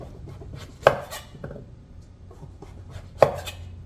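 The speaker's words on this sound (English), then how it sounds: "next one, we slice the round one." Kitchen knife slicing a king oyster mushroom into rounds on a cutting board: two sharp, distinct knife strikes against the board a couple of seconds apart, each followed by softer cutting sounds, close and clear with no talking.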